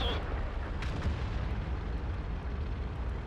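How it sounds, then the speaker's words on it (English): A World of Tanks artillery shell booms in the distance, a muffled, low rumbling blast followed by a faint crack amid steady battle noise. "a well-placed shot by the artillery sends the Jagdpanzer E100 back to his garage"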